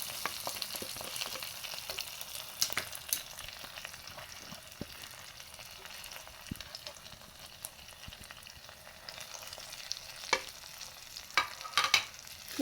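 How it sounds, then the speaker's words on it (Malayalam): Chilli and pepper powder being stirred into a fish curry pan makes a low frying hiss, broken by irregular scrapes and taps of the spoon, quiet and close. "നന്നായിട്ട് അങ്ങോട്ട് ഇളക്കി കൊടുക്കുക."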